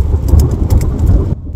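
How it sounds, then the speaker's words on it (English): A loud outdoor thunderstorm at Coffin Lakes in a tree-filled valley, with heavy rumbling thunder and a dense hiss of rain that cut off abruptly near the end. "that'll be some thunder in here in just a second."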